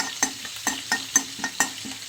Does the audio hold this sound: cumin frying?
yes